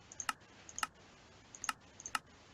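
Four sharp keystroke clicks on a computer keyboard, spaced irregularly as a command is entered for a Minecraft server, close and fairly faint with no talking.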